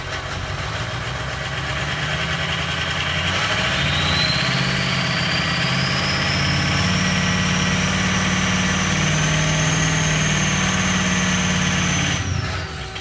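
A 6.0 Powerstroke diesel idles roughly with one dead injector, giving a loud, close, uneven low rumble with a knocking pulse and a faint rising whine. No voices are present.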